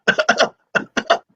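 Several harsh coughs open Black Sabbath's Sweet Leaf, a quick cluster of three or four barks followed by two more after a short gap, loud and close with nothing else behind them.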